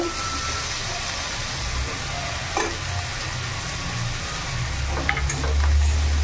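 White eggplant slices with salt and turmeric fry in oil, a steady low sizzle running the whole time and swelling a little louder near the end, with no voices.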